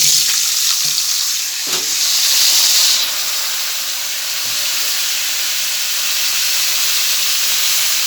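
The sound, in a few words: frying pointed gourd (potol) in oil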